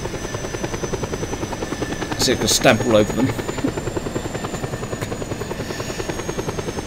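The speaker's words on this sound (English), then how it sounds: "the Reapers gave me an attack helicopter" A video-game attack helicopter in Just Cause 2 drones with a continuous buzzing rotor whine throughout, loud and steady, while someone talks and laughs over it and a brief burst of game effects flares midway.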